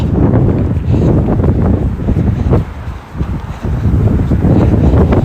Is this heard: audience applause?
no